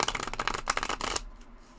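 A deck of tarot cards riffle-shuffled up close, a quick crisp flutter of cards for about a second that snaps off into near silence.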